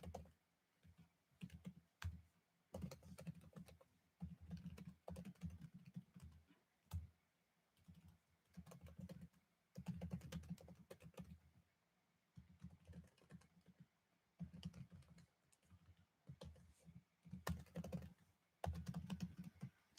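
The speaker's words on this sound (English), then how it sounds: "y'all don't know what I'm typing" Bursts of keystrokes on a computer keyboard, close and fairly quiet, tapping in irregular runs with short pauses between them.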